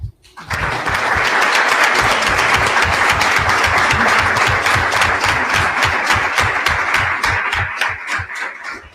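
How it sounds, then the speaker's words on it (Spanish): Audience applause at a book presentation about Holy Week traditions in Aspe, dense sustained clapping from a seated crowd, loud and steady throughout before tapering slightly at the end. "A mí solamente me queda que le demos un aplauso."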